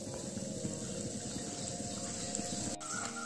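Snacks frying in hot oil over a low gas flame, a steady dense bubbling and sizzling that runs throughout at moderate level, with a brief clatter near the end.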